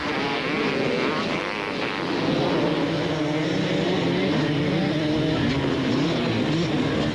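Racing motorcycles, a Kawasaki and a Honda, pass on a track during a 1998 Super Series race with a loud, steady engine roar that rises slightly as they go by, heard up close and sustained throughout.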